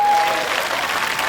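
An outdoor village festival crowd applauds at a comic grandmother dance event, a dense, loud wash of clapping from many hands that holds steady throughout, close and without a pause.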